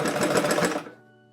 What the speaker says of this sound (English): I'm going to add some top stitching to make it look like a more tailored shirt than it really is.